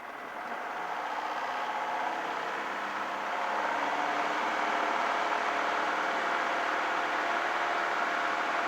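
A small training airplane's engine runs at full throttle during the takeoff roll, giving a steady, loud, close drone that swells slightly partway through and holds.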